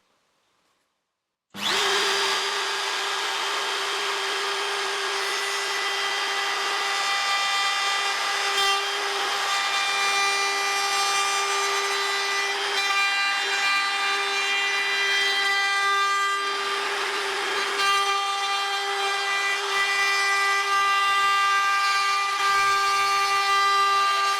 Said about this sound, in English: I lower the router bit almost down to the board and finish routing almost all the thickness of the wood.